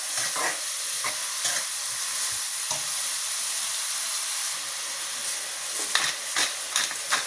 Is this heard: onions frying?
yes